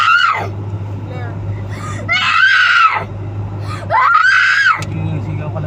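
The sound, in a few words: child screaming on a train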